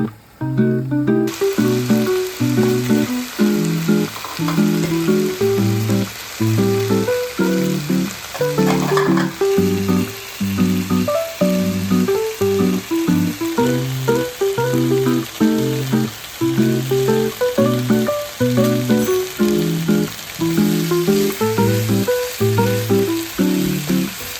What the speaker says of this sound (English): Let the potatoes mix well and then add in our carrots, cashews and curry leaves.